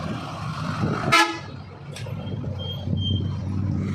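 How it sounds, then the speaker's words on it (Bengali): Horns toot amid the engine rumble of buses and trucks crowding Sylhet bus terminal, one sharp loud blast near the middle over a steady traffic drone, with fainter honks following. "এত গাড়ি এসেছিল রে বাবা"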